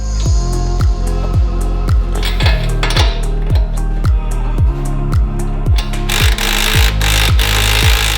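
A power tool hammers loudly and close by in a rapid, steady series of sharp impacts, like an impact wrench working a stubborn bolt, removing the knuckle bolt on an Audi RS3.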